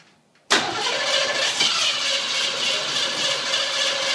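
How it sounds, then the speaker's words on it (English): 1967 Ford Mustang coupe engine catching after a brief quiet moment, then settling into a loud, steady running roar close by. "We're going to try to give her a quick start."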